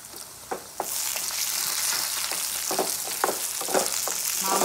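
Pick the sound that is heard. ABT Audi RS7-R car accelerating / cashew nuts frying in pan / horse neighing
cashew nuts frying in pan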